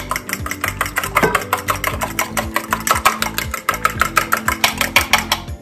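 Eggs beaten with milk in a bowl for an omelet or scramble, making a rapid, steady run of close, crisp clicks and taps that continues without a break.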